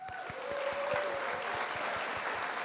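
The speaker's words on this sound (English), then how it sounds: "Let's give it up. A big round of applause" Steady round of applause on a live stream, a dense wash of clapping filling the whole stretch at an even level, with soft regular low thumps and a faint steady tone running underneath.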